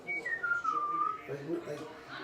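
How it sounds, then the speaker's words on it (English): A person whistles a single descending tone that gradually slides lower, heard up close against faint background chatter. "But I can whistle normal, like. You whistle behind your teeth."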